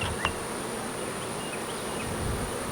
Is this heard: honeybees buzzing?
yes